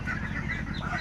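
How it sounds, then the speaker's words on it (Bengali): Chickens clucking restlessly in a coop, eager to get out; a steady, close, busy murmur of low clucks and calls runs throughout the short moment with no speech. "মুরগি বের হওয়ার জন্য পাগল হয়ে গেছে"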